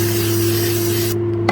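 Brake cleaner sprayed from an aerosol can onto a Benchmade knife, a steady loud hiss lasting over a second, then a sudden stop with a brief faint click.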